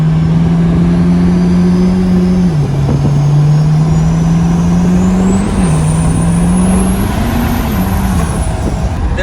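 A 1200 hp triple-turbo Powerstroke diesel truck drones loudly and steadily at speed, its engine pitch stepping down and climbing again through several shifts, with a rising whine from the turbos above the rumble.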